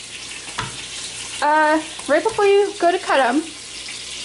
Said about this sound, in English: if you run the water to super cold